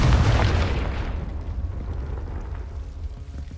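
A Confringo blasting spell goes off in the Hogwarts Legacy video game as a loud, deep boom that rumbles on and slowly fades, with no voices over it.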